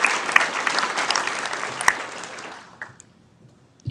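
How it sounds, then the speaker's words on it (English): Audience applause at the El Centro State of the City Address 2022, a dense burst of clapping from a seated crowd that fades out over a few seconds into near silence. "One more round of applause for them."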